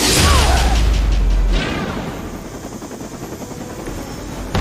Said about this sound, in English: helicopter's about to take off